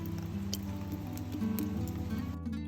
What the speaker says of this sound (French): je vous laisse avec le son de la pluie.